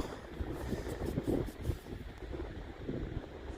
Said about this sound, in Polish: Jaki ten wiatr przenikliwy